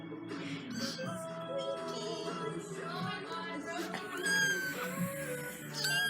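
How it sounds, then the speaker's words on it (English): A baby kitten meows repeatedly in high, rising cries close by, mixed in with people talking through the whole stretch. "Why are you meowing?"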